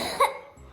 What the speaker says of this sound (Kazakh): Жөтеліп атсың ба?